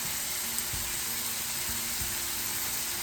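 A lamb chop sizzles steadily after going back into a hot oiled pan, a close, even frying hiss with a few soft knocks of the meat settling.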